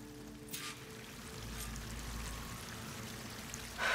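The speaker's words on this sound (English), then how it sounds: "That waterfall must be coming from somewhere." Steady rushing wash of falling water from a waterfall in Horizon Forbidden West, a broad low roar that stays even and fairly faint throughout with no voices.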